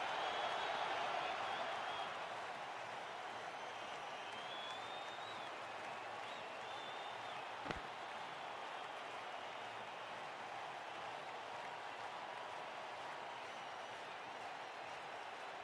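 Cricket crowd in the WCC3 video game cheering and applauding after a winning boundary, a loud wash of crowd noise at the start that settles into steady, even applause with a brief sharp click partway through.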